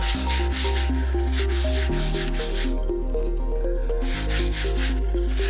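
Olive oil is rubbed into the inside of a stone mortar with a pestle, giving a continuous loud grinding, scraping rub with rhythmic circular strokes and no voices.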